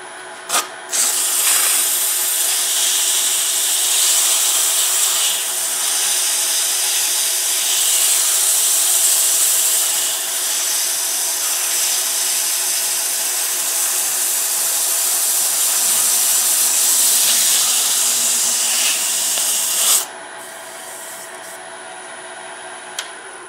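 Steady, close abrasive hiss of 220-grit sandpaper worked against a turned wooden scoop on a lathe, running continuously for about twenty seconds before stopping and leaving a quieter machine hum.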